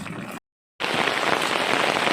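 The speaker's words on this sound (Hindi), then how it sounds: "बरसात का मौसम, पानी एकदम झमाझम" Heavy monsoon rain pours steadily in a garden at dawn, a dense continuous hiss broken by one brief silent gap, loud and close throughout.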